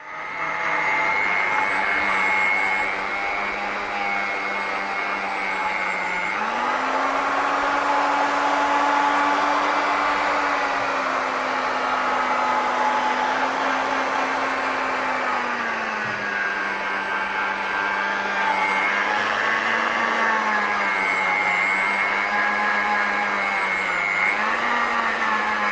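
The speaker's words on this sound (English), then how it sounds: "Again, drill polish the headlight on a medium RPM and apply medium pressure with a side-to-side action." A power drill spinning a foam polishing pad on a car headlight at medium speed gives a continuous motor whine for the full length, pitch dipping and rising slightly as pressure shifts side to side.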